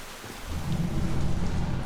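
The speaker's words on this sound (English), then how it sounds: "Normally I like the rain, but not with what's going on recently." Rain and rumbling thunder from the video game Mass Effect 2, a steady low roar of downpour with a deep rolling rumble building after the first half second and holding loud to the end.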